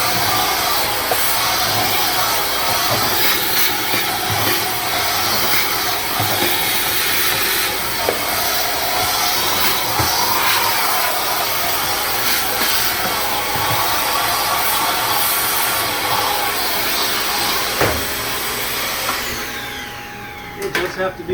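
A Menumaster convection oven runs after being switched on, its steady fan-and-motor whir holding level and loud for about twenty seconds before winding down at the end.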